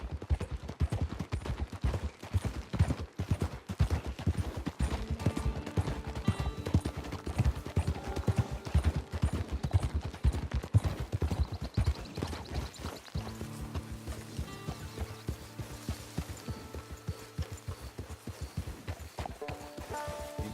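Horse hooves clip-clop at a steady walking rhythm in Red Dead Redemption 2, close and continuous, with game music and ambient tones rising underneath in the later part.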